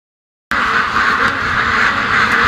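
Backyard ducks quack steadily on a windy day, their calls fairly close and continuous over a constant roar of wind that starts abruptly after a short silence.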